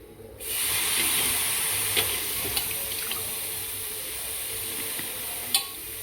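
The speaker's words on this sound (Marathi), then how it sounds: "गॅस चालू करून आता मी दोडके भाजून घेते" Ridge gourds roasting in a pan over a gas flame give a steady, close sizzle and hiss throughout, with a few faint clicks and one sharper tap near the end.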